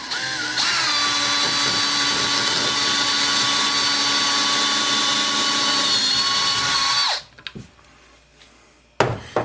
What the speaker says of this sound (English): we're going to go ahead and drill our hole in the cap